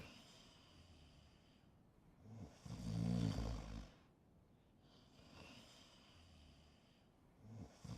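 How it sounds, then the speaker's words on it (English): Player characters snoring inside a house in the DayZ video game, slow deep snores rising and falling in two breaths over a low steady background, with no talking. "I hear us snoring in this house"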